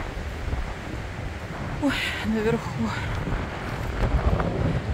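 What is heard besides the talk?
strong wind at stormy sea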